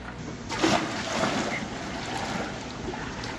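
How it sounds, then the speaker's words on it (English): Water pouring from buckets into a goose pool outdoors, a steady broadband wash with splashy surges near the start, close and continuous without talk. "You hear that water pouring, Mumbles?"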